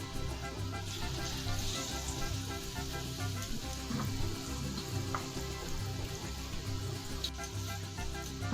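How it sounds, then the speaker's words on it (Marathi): Jowar flour vadas deep frying in hot oil, a soft, continuous bubbling crackle like light rain that holds steady throughout, fairly quiet and with no talking. "आणि आता हे वडे दोन्ही बाजूने छान असे गोल्डन कलरवर तळून घ्यायचे"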